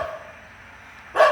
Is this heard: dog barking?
yes